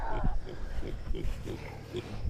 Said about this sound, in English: These are a whole pile of pigs.